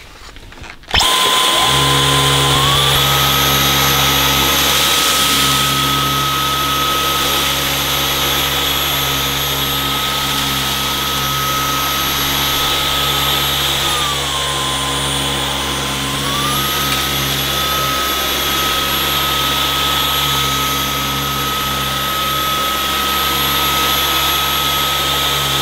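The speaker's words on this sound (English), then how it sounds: "when I start to suck up I've got some porridge oats first of all, and I've got a bit of sawdust at the end" A Dyson Outsize Absolute cordless vacuum switches on and runs with a loud, steady whine while it sucks up porridge oats and then sawdust, its pitch shifting a little partway through; no one speaks.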